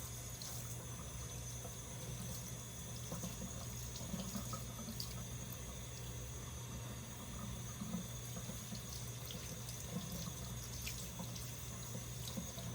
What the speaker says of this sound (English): I'm going to wash off these mushrooms.